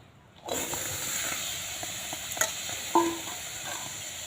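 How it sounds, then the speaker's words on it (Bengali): Small pieces of pumpkin, cut and washed for a pumpkin sweet, land in a hot kadai and start a steady sizzle, with a few clinks of a utensil against the pan near the end. "পাটা বসিয়ে দেবো কড়াতে দিয়ে দেবো কুমড়ো"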